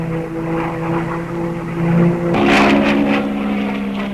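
A Hawker Tempest fighter plane passes overhead, its loud propeller engine droning steadily with a rising roar and a brief rushing surge as it goes by.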